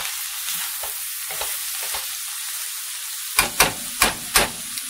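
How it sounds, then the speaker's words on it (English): Meat browning with soy sauce in a pan: a steady close sizzle with a few soft stirring scrapes, then several sharp louder bursts of hissing as the meat is turned. "It also browns the meat and gives it such a wonderful flavor."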